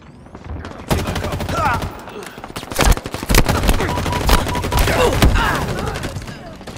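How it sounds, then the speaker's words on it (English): Rapid gunfire bursts and explosive thumps from Halo Infinite multiplayer combat, dense and loud with a grenade throw among the fighting, firing almost nonstop after the first second. "Tossing a nade."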